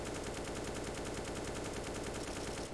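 Rapid automatic gunfire while running in CS:GO, a fast, even stream of shots repeating without pause across the whole stretch, fairly quiet and with no voices.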